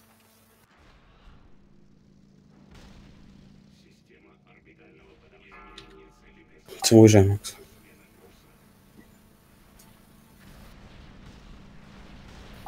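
One heavy cannon-like boom bursts out midway, loud and short, while casual voices talk quietly before and after.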